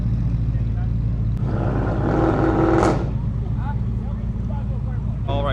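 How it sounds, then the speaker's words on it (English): An Audi R8 supercar drives past at a supercar festival with a Ferrari following close behind, a loud, continuous engine roar that swells and then sweeps away, heard beneath steady motor noise and talking. "And the R8 going as well."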